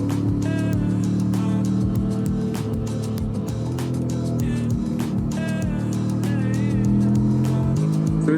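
A Honda Transalp XL750 motorcycle rides a wet, twisty road, its engine note steady and near with shifting pitch as it leans through bends, under constant wind and road roar with occasional sharp clicks.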